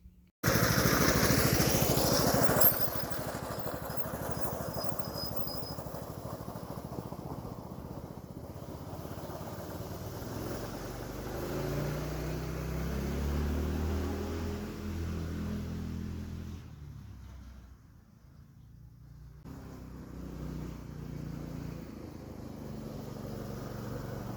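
A small engine on a test run with the throttle worked, droning steadily and rising and falling in pitch, close and fairly loud, then dipping briefly before running on, with no talk.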